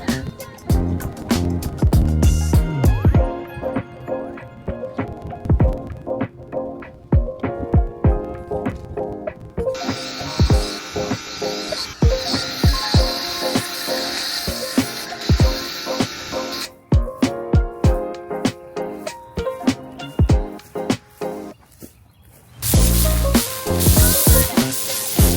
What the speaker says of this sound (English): In that time, I'll set up the pressure washer